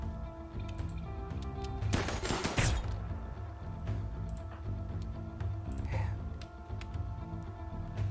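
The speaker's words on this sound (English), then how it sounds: "What is still shooting?" Raiders open fire in the RimWorld video game, with a dense burst of overlapping gunshots around the two-second mark standing out against steady game sound and music. Fainter scattered shots follow later.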